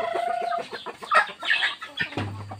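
A large rooster and chickens on a small homestead in the forest, with clucking and cackling calls close by and a short crowing burst, busy and irregular over a couple of seconds with no talk.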